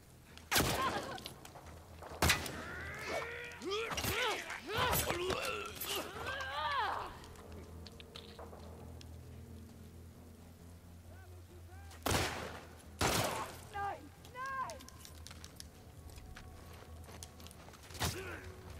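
Gunfire from The Last of Us Part 2 gameplay: several sharp, loud shots in separate bursts, with in-game creature or character cries between them and a quieter stretch in the middle.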